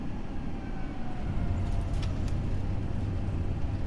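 An Airbus A320-232 rolls out after landing, a loud, steady low rumble of wheels and deceleration with spoilers deployed and reverse thrust, heard from inside the aircraft without talk.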